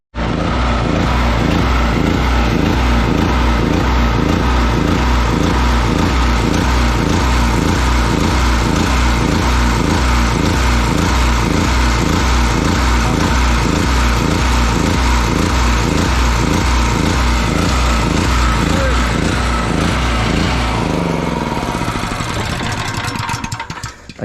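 A small petrol generator runs steadily after servicing, its engine chugging loud and close with a rapid, regular knocking beat for over twenty seconds before the note drops away near the end.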